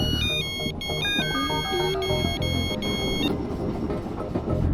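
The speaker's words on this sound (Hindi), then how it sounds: "फोन उठा लो ना प्लीज।" An electronic phone ringtone plays a repeating melodic tone pattern for several seconds over a dense background of noise and music, loud and close.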